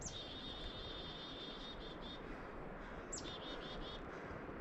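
Two faint bird calls ring out on a Newfoundland hiking trail over steady background hiss, each a quick string of high, repeated notes, the second following a pause.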